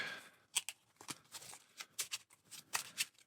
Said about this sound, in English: And 3 cards get shuffled in.